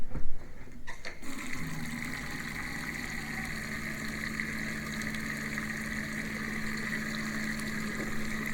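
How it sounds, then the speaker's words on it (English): Water runs steadily from a sink tap while the water lines are flushed with fresh water, a continuous close rushing flow with a low steady hum underneath, alone. "let's run the sink here"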